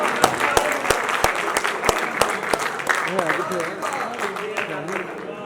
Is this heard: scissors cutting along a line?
no